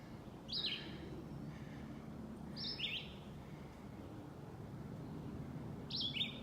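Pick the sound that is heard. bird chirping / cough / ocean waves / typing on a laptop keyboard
bird chirping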